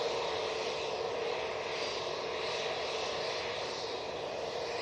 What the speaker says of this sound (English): Singapore Airlines coming out though.